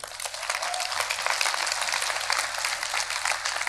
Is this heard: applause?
yes